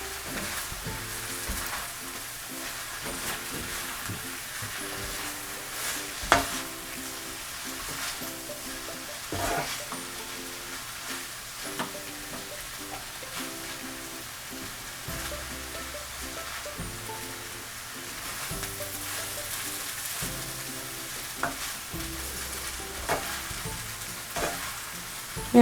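Noodles and vegetables stir-fried and tossed in a pan, with steady close sizzling throughout and repeated scraping, clattering stirs at an even rhythm, no voices.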